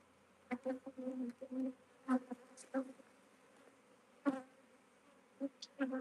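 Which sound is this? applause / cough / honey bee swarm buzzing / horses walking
honey bee swarm buzzing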